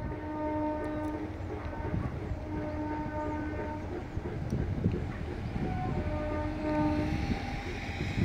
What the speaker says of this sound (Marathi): हे बघा समोर येते ट्रेन येते